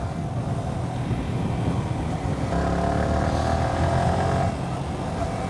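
A Yamaha R15 V3 150cc motorcycle ridden at speed, its engine droning steadily under heavy wind rush, with the pitch climbing as the rider accelerates.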